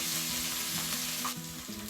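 Ginger fries in hot oil for a potato samosa filling, giving a dense, steady sizzle that fills the short moment up close, with a slight shift partway through as it is stirred.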